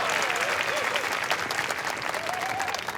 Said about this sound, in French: Une petite main d'applaudissement.